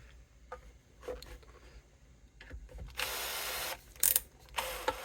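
A Bosch power screwdriver removing screws from a vintage Rickenbacker guitar, quiet clicks and handling noise leading into a couple of short motor whirs, close by and without speech.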